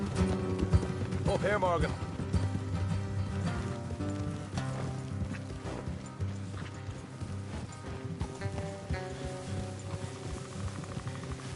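Horse hooves clip-clop steadily in Red Dead Redemption 2, riders moving along a road in rain, under game music and a voice speaking briefly.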